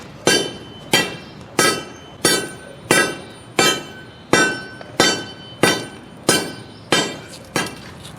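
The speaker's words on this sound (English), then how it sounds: "we should be able to just start pounding on this concrete and it should crack" Repeated heavy blows pound a thick slab of driveway concrete to crack it. About eleven loud, sharp strikes land at a steady, even pace, each ringing briefly, with no talking.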